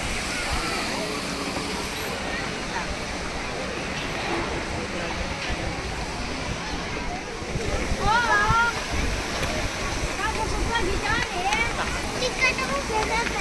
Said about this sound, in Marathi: फायनली आम्हाला तिकडे वॉटरफॉल दिसला आहे